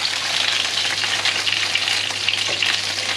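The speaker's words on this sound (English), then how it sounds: "Now that's going to glaze the abalone in the pan right now." Abalone fries in oil in a pan with a bright, constant hiss and fine crackle, loud and close, steady throughout with no voices.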